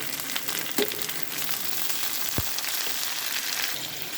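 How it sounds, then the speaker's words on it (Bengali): Chopped onion frying in a pan for a Bengali boal fish curry, a steady close hiss of sizzling oil that runs throughout, with a brief stir or clink near the middle. "হালকা একটু ভেজে নিলাম পেঁয়াজ কুচিটা"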